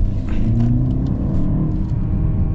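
A 2024 Mercedes GLE 350 with a four-cylinder engine accelerates in sport mode, giving a loud, steady engine drone and rumbling road noise heard from inside the cabin, with pitch climbing slightly and no talking.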